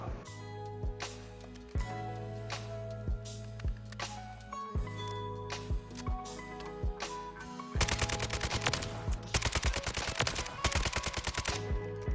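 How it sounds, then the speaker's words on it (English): AK-12 rifle fire in Modern Warfare 3 gameplay: sharp single and short-burst shots crack repeatedly over steady game music, then a rapid sustained automatic stream of shots takes over in the final third, close and loud. "here's some gameplay of the AK-12"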